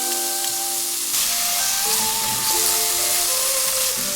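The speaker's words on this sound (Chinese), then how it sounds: "再倒入泡椒和豆酱，翻炒出红油" Pickled chilies and bean paste stir-fry in hot oil in a wok, a loud, steady sizzle and hiss with scraping stirs and faint tonal ringing underneath, close and continuous.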